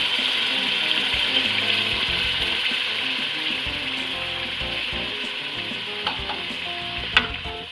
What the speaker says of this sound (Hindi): गोश्त अच्छी तरह भुन गया है, इसमें दाल डाल रही हूँ।